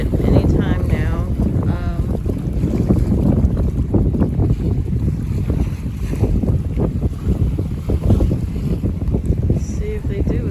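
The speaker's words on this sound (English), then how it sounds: "It's pretty windy" Strong gusts buffet and rumble across the microphone continuously near the cargo ship Dali, with a boat-like low roar and brief voices mixed in.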